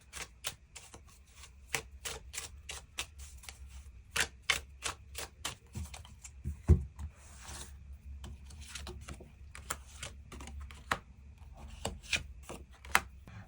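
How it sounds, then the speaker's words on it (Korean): Tarot cards are drawn from a deck in a quiet room: a long run of crisp, faint card snaps and taps at an irregular pace, with occasional soft rustling between them. "그런 9번 분들 추가 카드로 그래서 앞으로 내가 만나게 될 이 상대방이 어떤 특징을 가진 사람일지 그 부분 추가 카드 뽑아보도록 하겠습니다"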